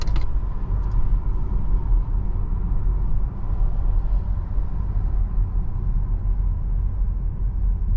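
A car drives along a back road in the New Mexico borderlands, steady loud low rumble of engine and tyres with constant road noise throughout, no voices.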